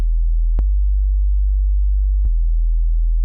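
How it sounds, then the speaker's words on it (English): A pure low E sine wave at 41 hertz, a deep sub-bass tone held steady with nothing else sounding, broken only by two brief clicks where it starts and restarts. "I can drop down another octave and really get some low-end energy out of a single sine wave."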